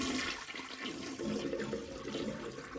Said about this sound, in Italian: E lo sciacquone funziona in questo modo.